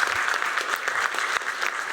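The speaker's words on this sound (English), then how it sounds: "let's give the panel a round of applause" An audience claps for a panel after a talk on intergenerational housing, a short burst of loud, close, dense applause with no voices over it.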